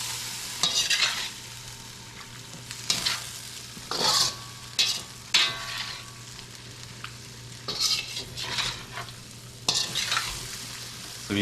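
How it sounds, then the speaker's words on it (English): Chicken and broccoli stir fry sizzling in a pan as sauce is poured in, with a steady hiss broken by several louder bursts of spatter and stirring clatter. "I'll throw in a little bit at a time the sauce and see how much we need"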